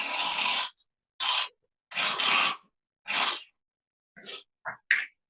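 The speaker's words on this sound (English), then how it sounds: "Did you just snort everything that was in that bowl?" A man snorts liquid up his nose from a bowl in a series of sharp, close inhalations, several hard bursts separated by brief silences, ending in shorter quick sniffs.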